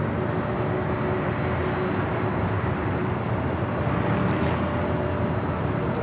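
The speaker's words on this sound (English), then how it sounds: "Eva Air Flight 12 coming in from Taipei at 777 at 300 ERs" An EVA Air Boeing 777-300ER arriving at LAX from Taipei rumbles loudly and continuously, a broad, steady engine roar with a faint high whine running over it.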